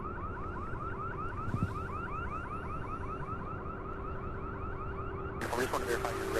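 A loud electronic alarm warbles in a steady repeating rise-and-fall cycle beside a busy cargo airport, continuous and close, with radio chatter faintly underneath and a burst of broadband noise near the end.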